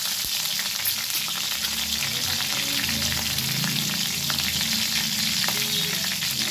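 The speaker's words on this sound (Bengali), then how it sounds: "দিয়ে দিচ্ছি জিরে ফোড়ন, দিয়ে দিলাম চেরা কাঁচা লঙ্কা" Cumin seeds and slit green chillies hit hot oil in a pan, producing a loud, continuous crackling sizzle that stays close and steady throughout, with no voices.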